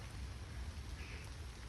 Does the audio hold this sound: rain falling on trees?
yes